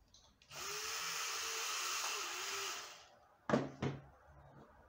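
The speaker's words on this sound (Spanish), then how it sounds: "y se va a realizar una unión simple con el taladro" A power drill driving a screw into melamine board for a simple carpentry joint, a steady high whine for about two seconds that winds down, followed by two sharp knocks, with no talking.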